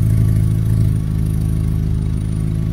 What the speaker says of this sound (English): Check out this exhaust work.